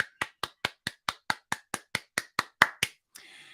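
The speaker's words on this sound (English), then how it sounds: "I think we all owe a big round of applause to Nick Grillo, the Grillo family" About thirteen sharp, evenly spaced claps from a small group on a live Wednesday night show, close and crisp, then a short burst of low noise at the end.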